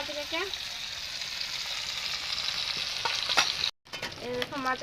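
Fresh river fish fries in a pan with a steady, close sizzle, while stirring adds scattered clinks and scrapes and a voice speaks briefly at the start and end.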